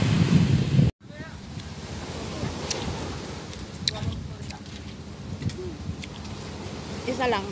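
Sea waves wash onto a shore, with steady surf and wind rumbling close to the microphone after a brief cutout near the start, and voices come and go faintly underneath.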